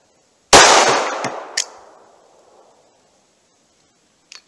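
A single loud, close gunshot from a 5.3 inch Glock 21 firing a warm .45 Auto 230 grain Remington round, a sharp crack with a ringing decay over about two seconds, then faint clicks and no talking.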